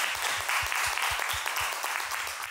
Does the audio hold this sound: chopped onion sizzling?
no